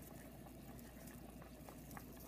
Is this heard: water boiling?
yes